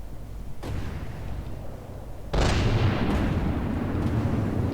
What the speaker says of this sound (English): And the secondaries are firing as well.